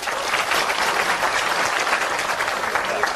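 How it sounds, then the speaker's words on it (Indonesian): A large audience at a Maiyahan gathering applauds the Kiai Kanjeng ensemble with loud, continuous, dense clapping that holds steady throughout. "Juga tepuk tangan untuk Kiai Kanjeng."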